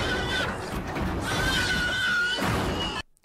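A shrill, strained squeal used as a pig sound effect in the Robocop film cries out in two loud, wavering bursts over a rough, crashing background, then cuts off abruptly.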